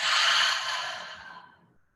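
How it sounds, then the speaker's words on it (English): A single long exhale out through the mouth during guided breathing, breathy and close, strong at first and then fading away to silence within two seconds. "And when you exhale, let it out the mouth."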